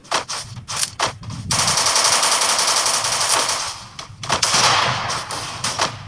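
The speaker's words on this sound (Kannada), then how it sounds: "ಇಲ್ಲೇ ಗನ್ ಸೌಂಡ್ ಆಗತೈತಿ" Rapid automatic gunfire from a Free Fire Max class squad ranked match, with loud sustained bursts and several short volleys of shots in sequence, alone without any talk.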